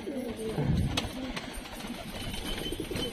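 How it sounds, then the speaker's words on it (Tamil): A pigeon at a coop gives a low, close coo near the start, then softer murmuring sounds over faint background noise. "அது புறா வந்து உட்காரும்."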